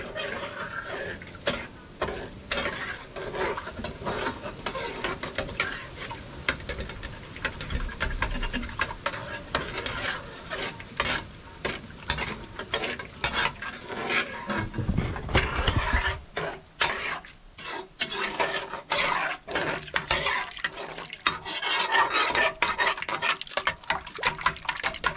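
Seasoned rice with sardine and water being stirred in a pot, with repeated scraping, rubbing and wet sloshing strokes in an uneven rhythm, close by, going on for about twenty-five seconds with a person talking at times over it.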